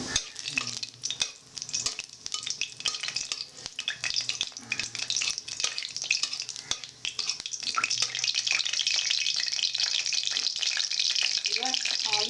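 Whole garam masala hitting hot oil in a kadai, a dense close crackling sizzle with stirring scrapes that swells louder and steadier toward the end, no talk.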